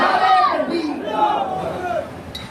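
A large crowd at a religious gathering roars a drawn-out chanted takbir response in unison, loud and close, with the chant rising and falling before trailing off.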